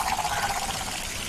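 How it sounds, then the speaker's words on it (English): Water pours and trickles steadily into a small room lined with telephones, a continuous rushing, splashing fill heard up close with no voices. "the room starts to fill with water"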